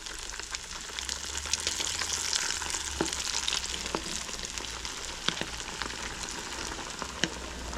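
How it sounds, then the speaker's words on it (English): Squid deep-frying in hot oil at a seafood cook-up in a shed, giving a steady, dense sizzle and crackle that holds throughout, with a few sharper pops standing out and no talking. "the oil's just about ready. Let's get the squid going"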